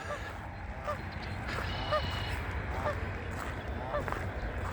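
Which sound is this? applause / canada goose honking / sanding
canada goose honking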